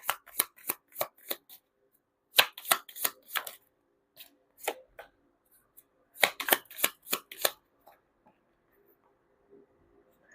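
Tarot cards drawn one after another from a deck during a card reading: a run of crisp, close card snaps and flicks in quick bursts with short pauses, no voice.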